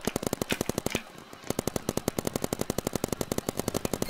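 Rapid bursts of paintball gun shots during a big outdoor paintball game, a fast regular volley of sharp pops with a brief pause near one second before the steady firing resumes, loud and close.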